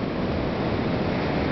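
Pacific Ocean waves heard from the shore: a steady, close, hissing wash of surf with no break, and no voices.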